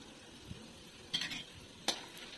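Peanuts roasting in a pan are stirred with a utensil, giving two distinct scraping clatters over a quiet, steady sizzle.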